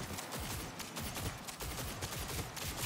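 Gunshots in the video game Cyberpunk, a dense, continuous rattle of rapid fire that stays loud and unbroken for nearly three seconds.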